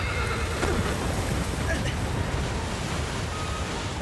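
A horse neighs in the video game Shadow of the Colossus, a brief whinny heard over wind-like outdoor ambience.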